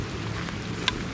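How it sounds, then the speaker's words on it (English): Rain begins to fall outdoors beside a Mercedes-Benz E63 S AMG wagon, a soft, even patter of drops lasting about a second, with one brief sharper tick near the end. "the rain has begun"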